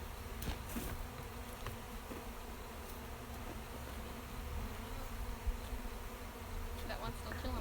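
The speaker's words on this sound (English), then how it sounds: "There's still a lot of bees in there." Honey bees swarm around an open hive, a dense steady buzz of many insects filling the air close by, with brief louder passes as individual bees fly near.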